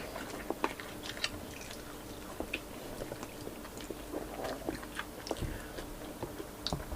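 Someone chews egg during a Filipino breakfast, with soft, wet, irregular chomps and small crunches close to the microphone and no talking.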